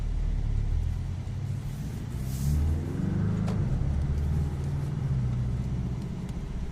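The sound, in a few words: Porsche 718 Boxster S engine revving in sport mode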